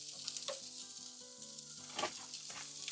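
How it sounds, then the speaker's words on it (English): Sausage sizzles and crackles in a pan at a winter truck campsite, a steady hiss with scattered pops and a few louder stirring scrapes, close up, alongside a faint background melody and no speech. "Let's get some sausage scrambling."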